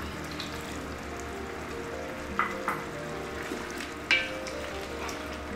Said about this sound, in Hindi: बस अब हम इसमें ऑयल डालेंगे और इसको भूनेंगे अच्छे से।